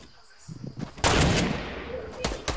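Sniper rifle shots in the video game Fortnite ring out as a few sharp loud cracks with lingering echo, mixed with gunfire from the fight and players talking over the action.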